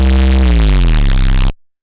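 A thick, gritty synth bass with a growling, distorted edge, its pitch sliding downward over about a second and a half before cutting off abruptly.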